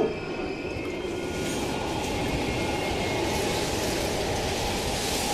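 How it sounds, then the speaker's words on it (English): A train rumbles past steadily in the Black Ops Cold War campaign, a dense continuous roar of rolling wheels and rattling carriages with faint squeal, loud and close throughout with no voices. "We can use a train to slip past."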